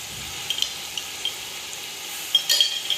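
Spice masala with Kashmiri red chili, chicken powder and lemon juice sizzles softly for Hyderabadi chicken dum biryani, a low steady frying hiss with a few light stirring scrapes and clinks near the end.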